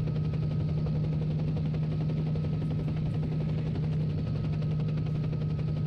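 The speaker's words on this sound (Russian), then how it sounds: "Вертолет уже прибыл." A helicopter sits with its rotor running in the video game Stalker, producing a constant loud droning hum with a steady low throb that never lets up.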